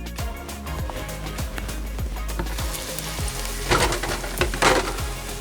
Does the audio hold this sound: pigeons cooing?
no